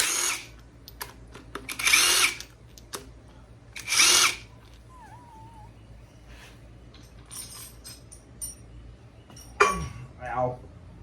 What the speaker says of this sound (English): I got all the head bolts broke loose and just running these out real quick